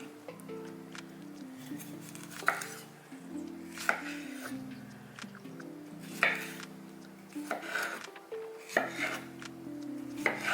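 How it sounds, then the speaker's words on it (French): A knife chops tomatoes on a board in a kitchen, with sharp, irregular knocks a second or two apart over a low, steady background hum, close and moderately loud, with no talking. "je vais me couper des tomates pour aller avec ça"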